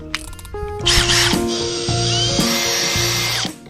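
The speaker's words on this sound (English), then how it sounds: "it was time to drill some holes through the cabin" A power drill whines loudly and steadily as it bores holes through a boat's cabin, its pitch shifting in steps as the bit bites and speeds up.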